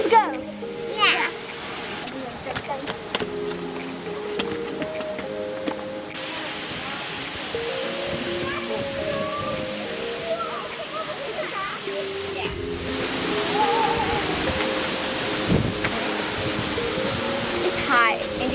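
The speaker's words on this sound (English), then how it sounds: "And then we're gonna go behind a waterfall, a little one." A small waterfall in a creek gives a steady, hissing rush of falling water that swells in places, with children talking over it throughout.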